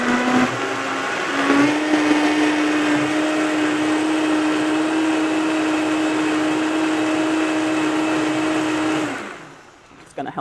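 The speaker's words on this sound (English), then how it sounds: "bear with me as I bring this together and just blend it a little bit" An electric blender whirs continuously while blending a tofu dessert mixture, a loud steady motor drone that holds for about nine seconds before cutting out abruptly.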